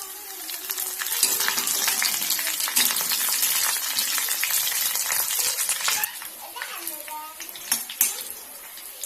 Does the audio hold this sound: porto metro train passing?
no